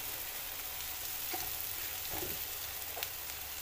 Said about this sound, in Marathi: मस्त 2-4 मिनिटं हा खरडा आपण तेलामध्ये परतून घेऊया